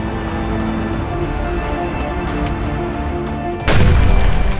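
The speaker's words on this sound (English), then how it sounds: "you can literally hear the firing of the cannons" A steady loud rumble of machinery, then a sudden heavy boom near the end like a cannon shot, with the sound staying louder afterward, in the Saxony Magazin exhibit in Dresden.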